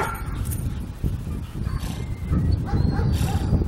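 A dog in bark-and-hold protection training gives sharp, repeated barks and yips mixed with whimpers, close and fairly loud, with handling noise around it.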